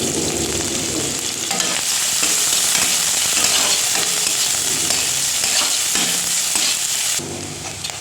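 Onion and green chili fry in oil in a wok, with a loud continuous sizzle and repeated scraping stir strokes that drop suddenly to a quieter sizzle near the end.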